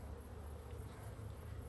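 Honey bees buzzing at a hive, a faint, steady hum that drones on without a break.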